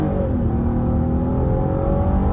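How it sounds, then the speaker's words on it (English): A 2022 Kia Carnival EX with its 3.5-liter V6 pulls away from a stop, the engine note rising steadily in pitch as it accelerates, loud and close from inside the cabin. "Once it turns green, it's going to be a good opportunity to see this vehicle's acceleration."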